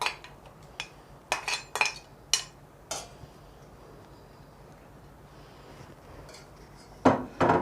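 Beetroot halwa stirred in milk in a pan, a run of sharp spoon-on-pot clinks and knocks early on, a quiet simmering stretch, then more clatter near the end, no voices.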